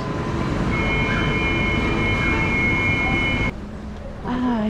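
Busy railway station ambience with a steady rumble, a high whine, and murmuring crowd noise that suddenly thins out near the end.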